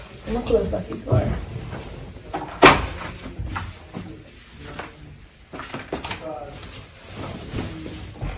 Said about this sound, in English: I'm gonna close back the door.